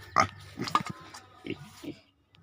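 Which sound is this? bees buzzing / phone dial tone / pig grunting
pig grunting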